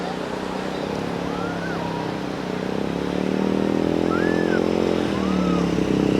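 A sand bike's engine drones on Alibag beach in a steady, continuous motor hum that swells a little louder partway through. Faint voices and open-air beach noise sit underneath.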